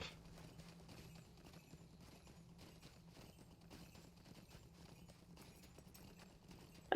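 Horse hooves clip-clop in the LOTRO online game, a faint steady rhythmic patter running quietly throughout, with a brief sharper sound at the very end.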